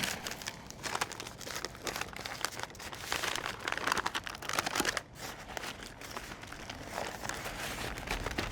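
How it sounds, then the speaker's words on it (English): Unwaxed butcher paper crinkles and crackles as beef ribs are wrapped tightly in it, with dense, uneven crumpling bursts close to the mic and a short pause partway through. "I'm going unwaxed butcher paper here and just want to wrap it tight."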